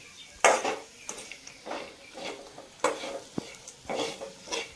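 An onion and peanut chutney is stirred as it cooks on a gas stove, with repeated scraping spoon strokes against the pan in an uneven rhythm over a low sizzle, close and fairly quiet.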